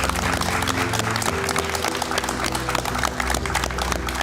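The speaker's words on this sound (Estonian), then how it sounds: "teeme suure aplausiga." An audience applauds at an award ceremony for a young emergency medical technician competition, continuous dense clapping layered over a steady musical backing at moderate loudness.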